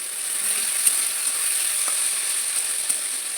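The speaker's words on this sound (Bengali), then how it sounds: "এবার আমি ভেজে নিচ্ছি।" Khichuri frying in a pan gives a steady, fairly quiet high sizzle that holds evenly throughout, broken by a few faint clicks, with no voices.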